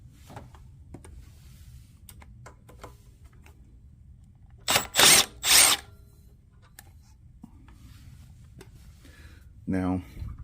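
A power driver with a T40 bit loosens screws on the pump of a Craftsman 3300 psi pressure washer. It gives two short loud whirring bursts in the middle and a brief buzzing spin near the end, with quiet clicks and handling noise between them.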